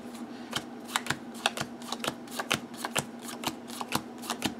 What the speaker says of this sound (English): Just give that a good shuffle.